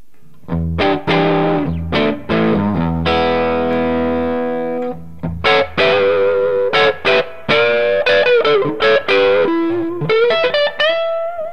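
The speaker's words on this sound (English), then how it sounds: "Just turn the reverb down a little bit because it's got plenty there." An electric guitar through a valve amp with valve-driven reverb plays distorted, sustained notes and quick phrases, loud and alone, with a wet, echoing tail on the notes.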